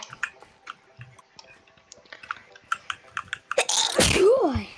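A single loud, close sneeze bursts out near the end of a Minecraft gaming session, preceded by soft clicks and faint background sounds.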